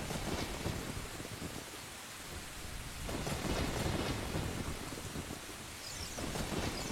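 A thunderstorm with dense, steady rain pours down, and low rumbles of thunder swell and fade beneath the hiss throughout, with no voices.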